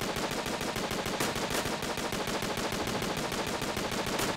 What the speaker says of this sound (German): wenn man die Schüsse nicht sieht, ballert er da drinnen an die Bunkerwand